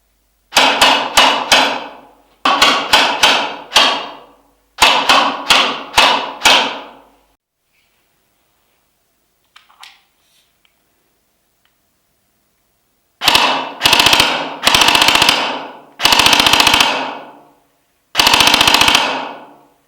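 A T238 Griffon gel blaster fires tracer shots in sharp, loud, close bursts: three quick clusters of rapid cracks, a quiet pause with faint handling, then four longer automatic strings.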